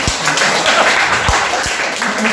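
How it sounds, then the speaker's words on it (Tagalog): A congregation applauds in a Filipino church service, a steady wash of clapping with a few low thumps, moderately loud and fairly close, with some speech mixed in. "Pwede mo natin bigyan si Lord ng isang malakas na palakpak"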